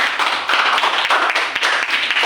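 Students in an Islamic studies class clap their hands after a group presents its poster, a dense, steady patter of many hands close by for a couple of seconds with no talking.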